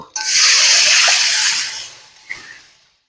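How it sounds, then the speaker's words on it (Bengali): Water poured into a pan of fried spice paste for a katla posto fish curry bursts into a loud hiss that lasts about two seconds and then fades. A brief second splash and hiss follow before it goes quiet. "মশলা কষানো হয়ে গেছে পরিমাণ মতো জল দিয়ে দেব"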